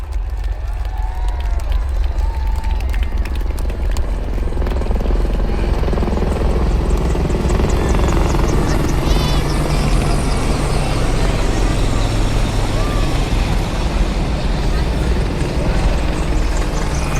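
Loud, steady rotor drone of Dhruv and Rudra military helicopters passing overhead at an army parade in Jaipur, a continuous heavy whir with faint crowd noise beneath.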